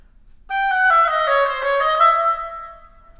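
Oboe playing a quick sixteenth-note run, a rapid cascade of bright reedy notes moving downward over about three seconds, clear and close with no talk.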